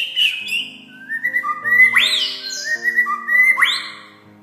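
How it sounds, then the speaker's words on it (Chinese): White-rumped shama sings a varied string of loud, clear whistles and fluting notes with rising sweeps, heard close and alone without talk. "他们会吹各式各样一连串响亮的口哨声和笛声"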